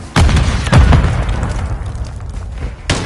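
Frag grenade explosion in Call of Duty Modern Warfare 3 multiplayer: a loud, close blast followed by a second boom under a second later, then a rumbling tail and another sharp hit near the end.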